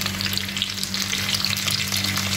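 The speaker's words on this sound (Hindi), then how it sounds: "अभी देखो सब फ्राई हो रही" Onion, spinach and chilli pakoras fry in hot oil over medium heat, a continuous close, loud sizzle and bubbling with a steady low hum beneath and no voices.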